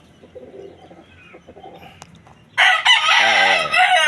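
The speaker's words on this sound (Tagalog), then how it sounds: "Tandang natin yun" After quiet ambient sounds on a chicken farm, a rooster suddenly crows loudly and close by, one long strained call filling the last second and a half.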